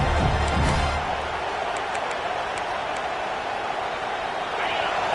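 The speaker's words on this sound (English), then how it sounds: "this crowd is fired up. Listen to this noise here" A large stadium crowd at a college football game roars in a dense, continuous wash of cheering and noise, heard from a distance, without clear individual voices.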